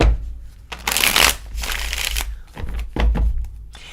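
Tarot cards shuffled close by in a few bursts of riffling and sliding, with short pauses between handfuls.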